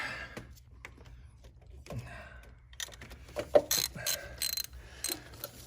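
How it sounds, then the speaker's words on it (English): A ratchet wrench clicks in short, close bursts while working on a Range Rover L322/L405 fuel injector removal, the pawl ticking quietly between moments of near silence. "Now get the wrench."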